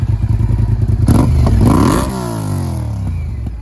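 A motorcycle engine idles close by with a steady throb, then revs loudly and drops back to a rumbling idle, with no speech.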